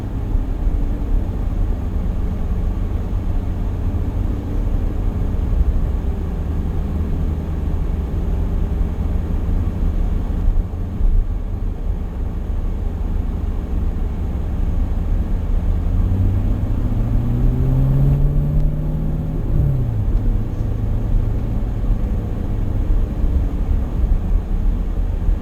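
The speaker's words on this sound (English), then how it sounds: "it's going to blip the throttle for us on our downshifts" Race car engine with active rev matching, a steady loud low rumble that holds throughout, with a rising then falling pitch sweep near the end like a throttle blip.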